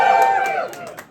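A live comedy audience cheers for snails, leeches and flatworms, a short swell of crowd cheering and whoops that fades over about a second.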